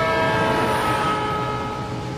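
A passing train's whistle sounds as one loud, sustained, steady tone over rumbling rail noise, gradually fading and dropping away as the train recedes.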